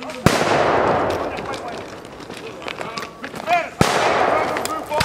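Muskets fire in volleys during an 1812 battle reenactment, with two sharp, loud cracks about three and a half seconds apart, each trailing off in a long rumbling echo, with outdoor movement and voices in between.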